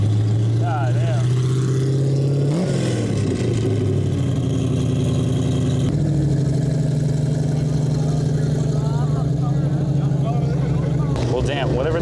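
Armored tank vehicle engine idling, a loud, close, steady low rumble that shifts pitch a few times as the revs change, with background noise layered over it.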